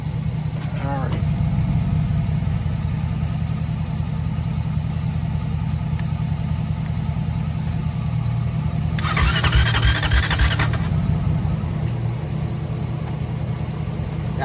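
An ignition-swapped Honda TRX450R ATV labors with a steady mechanical drone, and a burst of rapid cranking or sputtering comes about two-thirds through, with a brief squeal near the start.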